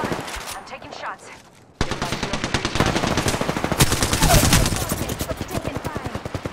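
Rapid automatic gunfire from a shooter video game, dense bursts of loud shots that break off briefly, then resume as a long continuous stream with faint voice chatter underneath.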